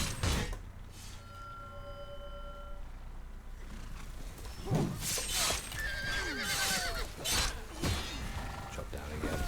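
A horse neighs in the medieval battle video game War of the Roses, giving a loud, drawn-out whinny midway through. Metallic clashes, hoofbeats and battle noise sound around it, with no talking.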